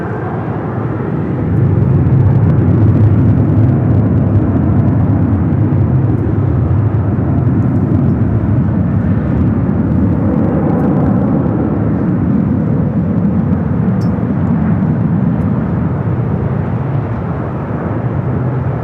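An Emirates airliner turning at LAX airport produces a loud, continuous low jet engine roar that stays steady and close throughout, with no other sound standing out.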